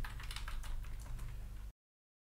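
Rapid keystrokes on a computer keyboard while typing text in Photoshop, a steady close clatter of irregular taps over a low hum, stopping abruptly.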